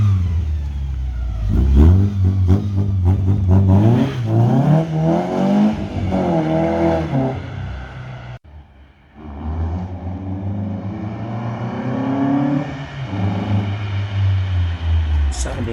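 A modified Metro with a 1.8 engine swap revs loudly and repeatedly, its engine note climbing and falling through several throttle blips close by, with a brief dip midway before the revving resumes.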